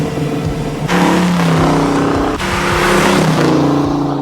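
A hot rod with a huge amount of horsepower accelerates hard on a test drive, its loud engine roaring continuously through rising gear sweeps, close and unbroken, with no voices.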